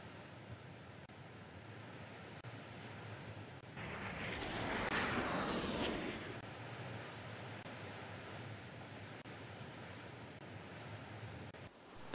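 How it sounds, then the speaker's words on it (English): Strike aircraft loose Harpoon missiles in the naval combat game Naval War: Arctic Circle, a jet roar swelling for a couple of seconds before fading back into a steady wash of background noise. "The lead aircraft launch their harpoons and return to the carrier."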